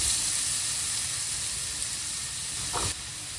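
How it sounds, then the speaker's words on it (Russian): Butter sizzling in a heated frying pan, a steady close hiss and crackle that drops slightly near the end. "Прогреем нашу сковородку и добавим кусочек сливочного масла."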